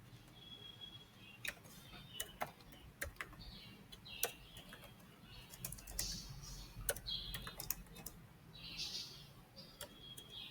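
Someone types on a computer keyboard in WordPad, with quiet irregular clicks and bursts of keystrokes close by against a hushed room, faint bird chirps in the background, no talk.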